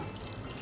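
A short, steady rush of about half a cup of water pouring into a mixer jar, close and continuous, with no voices.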